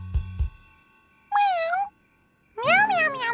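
A cartoon character's voice imitates a cat, giving two drawn-out, rising-and-falling meows after a couple of soft thumps.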